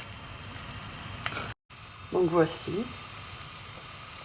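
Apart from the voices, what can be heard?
garlic sizzling in a pan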